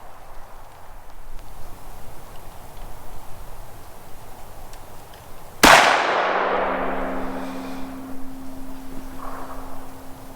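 Single sharp gunshot from a Smith & Wesson 629 revolver fired at a 25-yard target outdoors, a loud crack midway followed by a ringing decay over quiet background.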